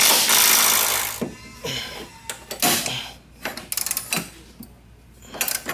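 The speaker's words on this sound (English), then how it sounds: "Just go ahead and take these 3 12 millimeter nuts out." Ratchet loosening three 12 mm strut cap nuts under the hood of a Toyota Corolla Type-S, loud close clicking bursts and metallic rattles with gaps between, opening with a rush of noise.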